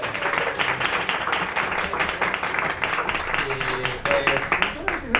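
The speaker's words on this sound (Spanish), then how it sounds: "Un aplauso, por favor." An audience at a film conversation event in Kubo Coyoacán applauds for director Michelle Garza Cervera, a dense, continuous wash of many hands clapping throughout, fairly loud and steady with a few louder individual claps near the end.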